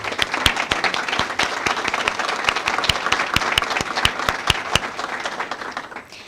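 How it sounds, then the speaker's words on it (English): An audience at a school board meeting applauds the students who spoke, a room full of steady clapping with a few sharp, loud claps standing out nearby, fading at the end. "So can we all please give them a round of applause?"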